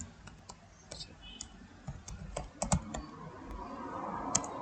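Fingers type on a computer keyboard while setting up an Ubuntu server login, a quiet, irregular run of close key clicks and taps with a few louder strokes.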